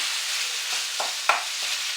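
Lamb mince sizzles steadily in a hot pan while browning, a constant bright crackle with a few soft scrapes and one sharper clink of stirring.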